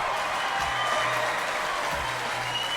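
Applause from the audience of a live radio show, a broad steady wash of clapping that holds for a few seconds with a faint low hum underneath.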